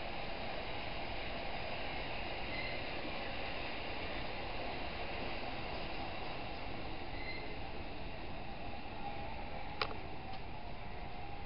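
A passing freight train heard from trackside, a steady distant roar of rolling wagons with faint high wheel squeals and one brief click near the end.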